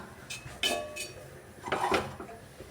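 A tawa griddle is set down on a gas stove with a few close metallic clanks and clinks, two sharper knocks standing out amid faint background noise.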